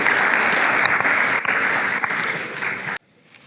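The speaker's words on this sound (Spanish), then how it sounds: "Un aplauso, por favor, para el señor Roberto Restrepo." An audience at a conference session on páramos, cultural coffee landscape and bahareque gives a speaker a burst of dense, close clapping that holds steady for about three seconds, then cuts off abruptly to a quiet room.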